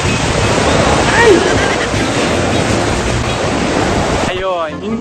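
Ocean surf at Baler beach crashes and washes in a loud, continuous roar with wind buffeting the microphone; a voice cuts in briefly near the end.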